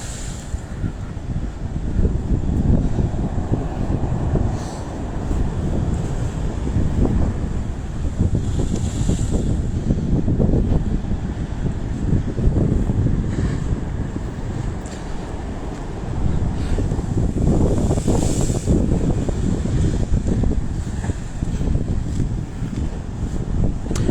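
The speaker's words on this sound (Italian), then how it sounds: "Guardate che onde." Strong winter sea waves surging against the Sicilian coast, a heavy continuous roar with swelling crashes every few seconds, buffeted by gusts of wind noise on the microphone.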